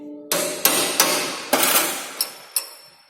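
A hammer strikes a slanted chisel to knock a socket out of a drill machine. Six sharp metallic blows ring out close by, unevenly spaced, each one decaying quickly.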